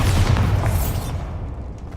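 A loud, deep boom from the Bombarda blasting spell in the game Hogwarts Legacy, a heavy rumbling burst that fades away over about a second.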